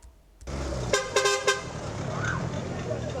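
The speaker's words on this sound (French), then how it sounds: "ce klaxon invite les riverains à acheminer leurs ordures ménagères à proximité de la voie routière" A garbage collection truck's horn gives several short, loud toots in a row over steady street traffic and engine noise, with a faint tone sounding afterward.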